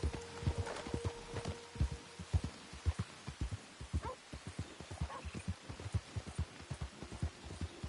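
A horse trots in Red Dead Redemption 2 with steady clip-clopping hooves. The rhythmic close footfalls run throughout over a faint hiss, and no one speaks.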